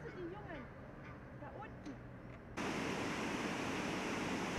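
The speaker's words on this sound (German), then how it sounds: "Entlang der Leuk hört man schon aus einiger Entfernung das Tosen des Wasserfalls" A roaring waterfall on the Leuk river bursts in abruptly as a loud, steady, broadband rush that drowns out the light birdsong heard just before it.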